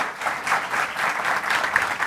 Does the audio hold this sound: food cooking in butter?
no